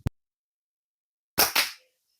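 A modified Wrist Rocket slingshot with long bands is shot outdoors at a plate: a faint click, a pause, then two sharp, loud cracks in quick succession that fade out.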